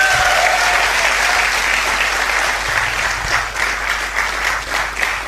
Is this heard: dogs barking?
no